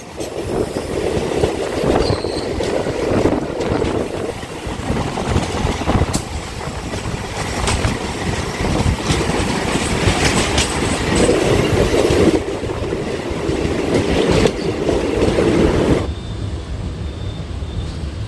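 Onboard a Ranaghat–Sealdah local, a continuous loud rumble of the moving carriage mixes with clattering wheels and brief squeals, steady throughout with no one speaking.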